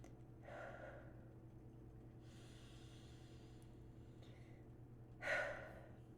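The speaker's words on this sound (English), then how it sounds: "take some deep breaths" Slow, quiet deep breaths, each soft breathy inhale and exhale separated by pauses, with one louder, sharper breath near the end.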